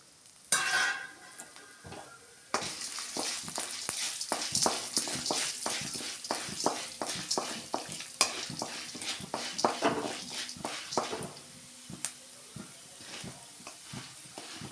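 Chana dal and urad dal frying in oil in a pan: a steady sizzle under repeated sharp scraping and clinking as the lentils are stirred, continuing throughout.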